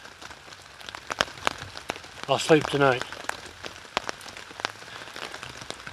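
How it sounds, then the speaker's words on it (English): Rain falling on a hammock tarp in a wet, windy night camp, a steady patter with sharper individual drops tapping throughout, while a person speaks briefly partway through. "Can you hear the rain on the tap?"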